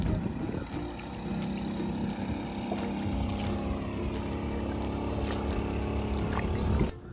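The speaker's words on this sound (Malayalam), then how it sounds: "ബഡാ ബോട്ട്, വലിയ ബോട്ട് പോകുന്നുണ്ട്." A large motorboat passes on a river, its engine a loud, steady droning hum that holds close and constant before easing off at the very end.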